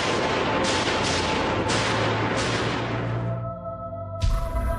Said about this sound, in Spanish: Cinco disparos.